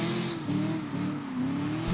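A drift car at the Drifting the Plains competition accelerates hard, its engine droning loud and continuous with rising and falling revs, alone without voices.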